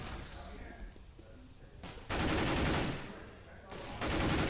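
Bursts of gunfire in Counter-Strike on the Cobblestone map, fired blindly through smoke during a competitive E-League match: two loud, dense broadband volleys around two and four seconds, separated by quieter ambient game noise.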